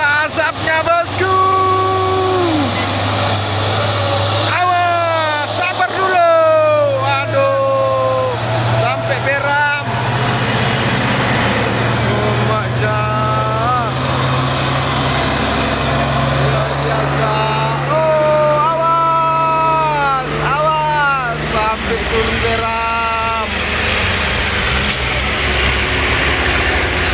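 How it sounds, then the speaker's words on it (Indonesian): Heavily loaded trailer trucks grind up the steep Bukit Kodok hill, engines droning loud and steady throughout, with gear whines rising and falling and people talking over the noise. "Masuk lagi truk-truk bermuatan berat nih ya"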